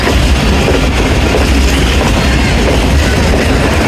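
Rehman Baba Express passenger train running on the rails, a loud, continuous rumble and roar heard from on board, with dense low wheel noise throughout.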